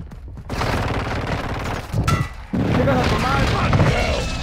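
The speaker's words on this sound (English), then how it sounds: "Enemy precision airstrike. Find cover." Enemy precision airstrike in Call of Duty: Modern Warfare II, loud rumbling blasts hitting in two heavy waves with rolling, crackling fire between them and muffled voices mixed in.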